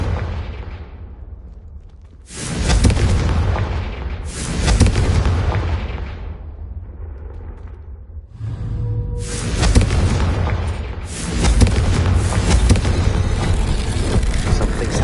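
A Confringo blasting spell in Hogwarts Legacy sets off a series of loud, booming explosions with sharp onsets, each followed by a rumbling decay, the last blasts running together near the end.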